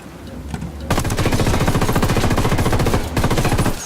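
Rapid automatic gunfire in the video game Ghost Recon Wildlands erupts after a brief lull and rattles loud and continuous for nearly three seconds, with a short break near the end before it resumes.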